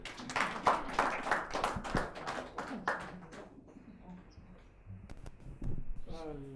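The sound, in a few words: audience applause at poetry gathering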